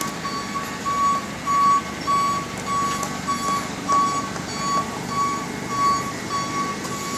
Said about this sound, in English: Sorry about the truck backing up behind me.